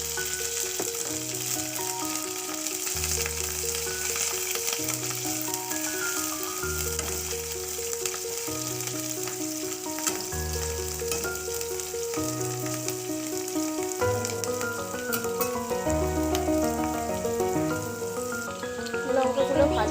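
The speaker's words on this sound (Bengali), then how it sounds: "গরম করে লঙ্কাগুলো যেগুলো কাঁচা সেগুলো ভেজে নেব।" Raw green chillies fry in hot mustard oil with a steady, continuous crackling sizzle that lasts throughout, heard beneath a backing music track.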